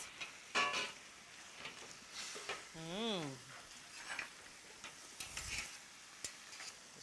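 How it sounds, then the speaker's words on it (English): Tagliatelle tossed and stirred in a pan of porcini mushroom sauce, with a soft ongoing sizzle, scraping stirs and occasional clinks of utensil on pan under faint background noise. "we're just putting un salto in padella, just a jump in the pot of sauce"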